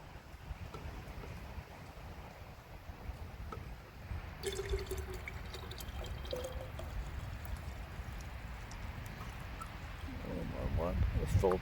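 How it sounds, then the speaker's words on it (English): Birch sap pours from a tapped birch tree into a canteen outdoors, a steady liquid trickle that grows louder and more gurgling toward the end, with faint voice sounds in the background. "I've filled my canteen with birch sap"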